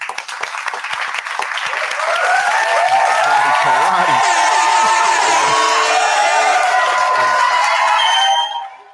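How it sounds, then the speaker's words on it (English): A live audience claps and cheers for beats played at a hip-hop show: loud, dense applause swelling with whoops and shouted voices, sustained for several seconds before cutting off abruptly. "we're gonna clap it up one time for those beats"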